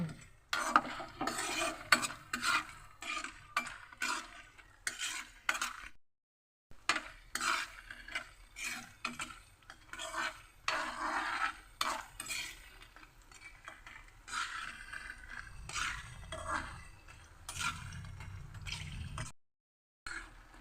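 Urad dal papads frying in a pan at home, with soft crackling sizzle, irregular clinks and scrapes of a utensil, and a few brief gaps, all fairly faint and close.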